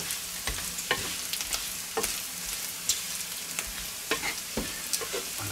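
Fried potatoes in a pan, seasoned with a potato spice mix, sizzle loudly while being stirred, with repeated scraping clatters and thumps from the utensil over a continuous frying hiss.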